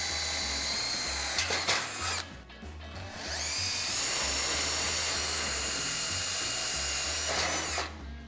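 A power drill bores pilot holes into metal for a plasma cutter circle-cutting guide, a steady high whining grind with brief pauses and bit catches, loud and close, alone without talk.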